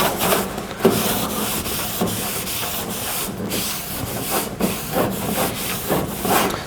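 A rag rubbing rust off badly rusted, pitted outdoor stainless steel makes a continuous close scrubbing hiss with quick back-and-forth strokes and a steady rhythm throughout, with no talking.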